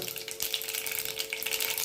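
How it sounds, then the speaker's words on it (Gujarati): Mustard seeds dropped into hot oil for a Gujarati tempering before cloves and bay leaves go in, giving a steady close-up sizzle with fine crackle, continuous through the short stretch with no talk. "હવે તેલ ગરમ થઈ ગયું છે. આપણે રાઈ એડ કરી દઈએ આમાં."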